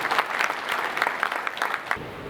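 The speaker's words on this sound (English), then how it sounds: "Let us clap for him." An audience at a community-based rehabilitation and inclusive development conference claps for a Zambian member of parliament, a brief burst of lively hand claps that ends abruptly.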